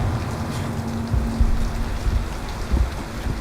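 Steady heavy rain pours onto surfaces in a film scene, a dense continuous hiss with low rumbling underneath and no voices.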